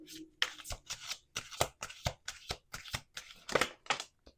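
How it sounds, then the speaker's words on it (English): Oracle cards are riffled and shuffled in a quick run of crisp, papery bursts, about a dozen in a steady rhythm, close and clear with no talking. "Let's do 2 more shuffles."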